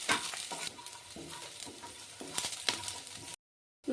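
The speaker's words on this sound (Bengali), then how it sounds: "রসুনগুলি লাল লাল করে ভেজে নেব।" Chopped garlic sizzles in hot oil in a wok while being stirred for a fried greens dish, giving a steady bright crackle with repeated scraping stir strokes, then briefly cutting to silence near the end.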